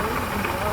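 A truck engine idles roughly and low with a vacuum leak, giving a steady rumble with a hissing edge, close and fairly loud, with speech-like sound mixed in over it.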